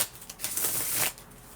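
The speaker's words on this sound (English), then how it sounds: "Let me shuffle on screen" A deck of tarot cards is riffled in one brief, close papery flutter lasting under a second, with faint handling noise before and after.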